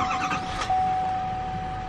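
A pickup truck engine cranks and catches near the start, then settles into a steady idle with a faint electronic tone running through, heard up close from inside the cab.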